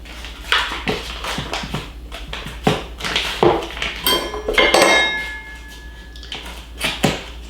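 Cold Kerrygold butter, about a cup, being cut into chunks on a board in a home kitchen, with a run of sharp knife taps and clinks that vary in loudness and are heard close up, with no talk.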